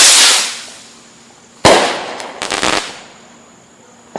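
Fireworks rocket with stars and crackles: a fading hiss, then a sharp bang followed by a flurry of crackling pops that tail off into quiet.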